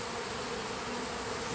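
Honeybees swarm around a busy hive entrance on a hot day, their dense, continuous buzzing steady and close without any voices.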